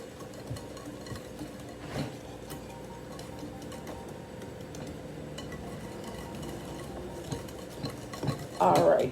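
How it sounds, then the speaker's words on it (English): Whisk working through cupcake batter made with almond milk and flour, a steady soft scraping and light tapping against the bowl, quiet and continuous, with a louder clatter near the end. "just keep whisking"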